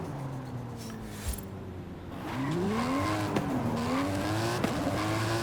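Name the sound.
race car driving in Forza Horizon 5 video game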